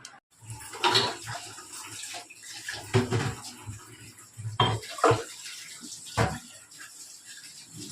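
Tea vessels are rinsed under a running tap at home, water splashing and gurgling in uneven bursts with occasional clinks of metal, close and moderately loud.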